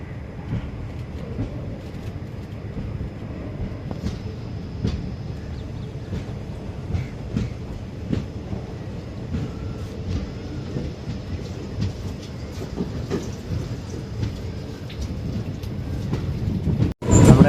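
Amritha Express passenger train running on rails on its extended route from Thiruvananthapuram, a steady loud rumble with rhythmic clickety-clack and occasional wheel noise throughout, no talk.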